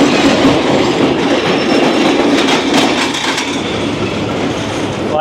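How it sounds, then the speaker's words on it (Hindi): Pak Business Express rolling into platform 4 at Lahore Junction, hauled by an RGE20 locomotive, with a steady loud rumble of rail cars and clickety-clack of wheels throughout and a faint squeal of wheels near the end. "ले आया है प्लेटफॉर्म नंबर 4 पर 34 डाउन पाक बिजनेस एक्सप्रेस को"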